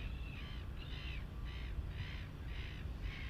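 Seagulls chasing a flying ZOHD Drift model plane give about six evenly spaced, harsh calls over a steady low background hum.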